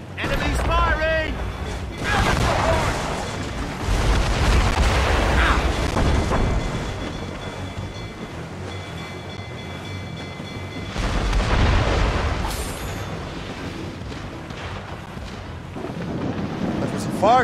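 Enemy ships fire their cannons in the Assassin's Creed Rogue naval game. Deep booms rumble out in several heavy bursts over a long stretch, some close and some farther off, with voices talking between them.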